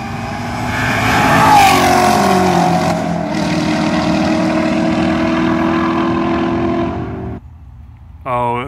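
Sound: fast green race car driving past

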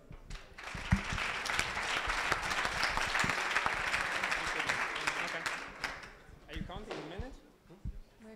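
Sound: audience applause at a startup pitch event

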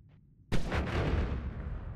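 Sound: fireball spell firing in the Noita video game

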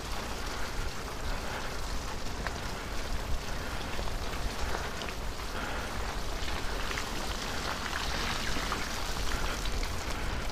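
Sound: rain

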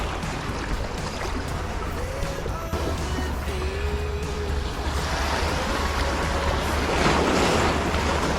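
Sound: ocean waves breaking on a rocky shore

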